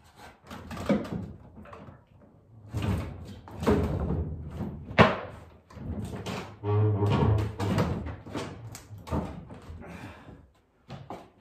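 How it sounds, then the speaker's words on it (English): Wooden drawers are slid and thumped into a heavy, gigantic antique apothecary cabinet, producing a series of scraping slides and dull knocks at close range, with brief pauses between them. "So I need to hop this off and then I'll start putting the drawers in."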